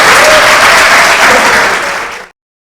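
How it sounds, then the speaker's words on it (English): An audience at a conference bursts into loud, dense applause that holds steady for about two seconds and then stops abruptly. "just big applause to our moderator"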